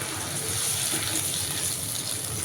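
Water being poured into a cooking pan of frying onions and ginger, a steady close gushing and hissing flow that runs unbroken throughout, with no talking.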